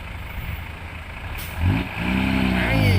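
A six-wheel truck on a rainy-season road revs its engine and pulls away, a low rumble swelling louder halfway through with rising engine tones, a short hiss of air brake released before it moves off.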